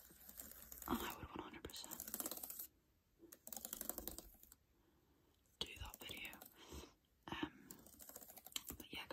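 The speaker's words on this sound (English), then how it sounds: "So that's roughly what the keyboard sounds like." Computer keyboard typing in quiet bursts of rapid clicks, close and soft, separated by short pauses, with faint whispering between the typing runs.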